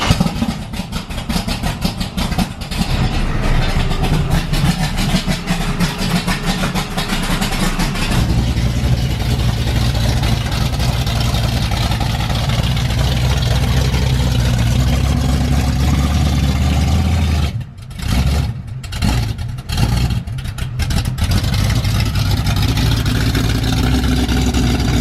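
A 1968 Camaro with a 502 big-block V8, loud and close, roars at sustained high revs on a dyno, then drops to a rough idle before a few sharp throttle blips.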